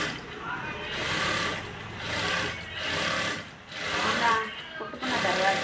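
A sewing machine runs in short repeated bursts while stitching the hem of a blouse, close and clattering, pausing briefly between each run of stitches.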